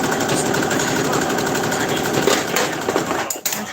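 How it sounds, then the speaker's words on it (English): A home sewing machine runs at a fast, steady, buzzing whir close by, keeping an even mechanical rhythm before slowing and stopping near the end, with no talk. "if my sewing machine went faster, I could cut a lot of my time out."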